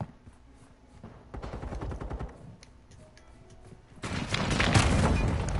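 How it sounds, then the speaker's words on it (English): Video game combat with an airstrike and gunfire: rapid clusters of sharp shots and crackling bursts, then a louder, denser barrage of blasts in the final seconds. "Hostile airstrike incoming."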